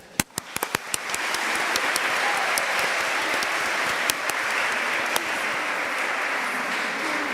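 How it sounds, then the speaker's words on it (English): Applause for committees and leaders at a junior league annual meeting: sharp individual claps and a few loud cracks up front, then a dense, steady round of clapping from a seated audience that holds for several seconds. "I hope you'll join me in giving another well-deserved round of applause for these"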